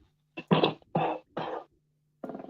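Four harsh coughs from powder in quick succession, close and fairly sharp, then a pause before one more cough, over a faint low hum.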